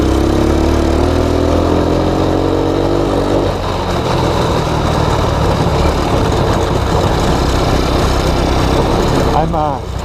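A TaoTao ATA 135D ATV engine with a sticking throttle runs loud and steady throughout, a rising whine easing into a rough, busy drone; a voice speaks under it at the very end.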